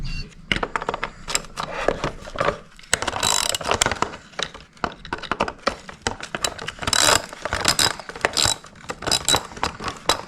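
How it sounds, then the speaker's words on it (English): Bolts on the license plate bracket of a Honda CRF 300L are undone near a DRC tail tidy, with dense irregular ratchet clicking, metallic rattles and clinks up close, and no speech. "So we're going to undo these 2 bolts in here."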